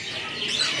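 Caged songbirds at a bird-market kiosk, including curuk-cukan birds kept under cage covers, give a brief burst of faint, bright chirps over a soft background hiss.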